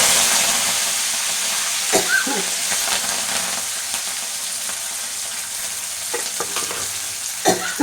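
Curry leaves and onion fry in oil with a soft, steady sizzling hiss, broken by a few sharp clicks and scrapes from stirring, heard up close.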